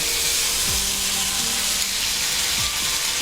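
Ginger, fennel and green chili paste hits a hot pan for doodh mouri paneer, giving a steady close sizzle with a few soft knocks from the spoon or pan and no talking.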